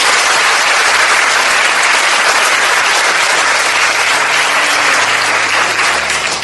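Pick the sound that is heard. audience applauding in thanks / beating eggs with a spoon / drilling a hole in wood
audience applauding in thanks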